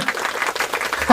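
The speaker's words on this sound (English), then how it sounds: "Would y'all like to give me like a little clap over there?" Small group clapping at a Texas fajita cookout, a short burst of scattered hand claps lasting about a second.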